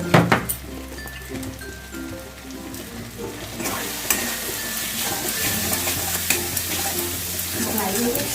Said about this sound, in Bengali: এবার আমি মশলাগুলো ভালো করে মিশিয়ে নেব